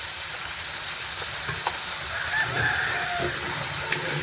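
Onion, ginger and garlic frying in oil for a vegetable biryani, a steady soft sizzle running throughout with a few small pops and crackles, fairly quiet and close, no talking.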